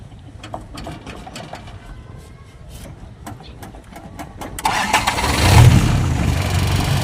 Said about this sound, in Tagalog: tira ang starter at walang imek. Naandar naman pala.